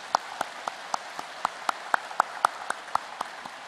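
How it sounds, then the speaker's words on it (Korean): A church congregation stands and claps in steady unison, about four sharp claps per second, soft and somewhat distant, with no talking over it. "우리 환영의 박수를 하겠습니다"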